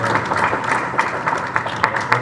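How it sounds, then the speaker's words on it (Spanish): An audience at a forum on APEC and Chancay gives a short round of applause, with moderately loud clapping that is uneven and slightly lumpy. "Muchos aplausos."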